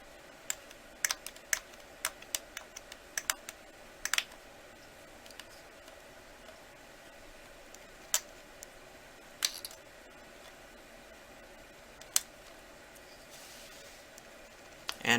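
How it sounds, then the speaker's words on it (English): A blade chops polymer clay into strips, giving a run of quick, light taps on a hard surface that come in uneven clusters, then sparse single clicks with quiet gaps between. "So, I'm just going to chop it up into some strips or pieces."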